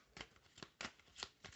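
Tarot cards being shuffled by hand, several quick soft riffles and flicks in close succession, quiet and close with no talking.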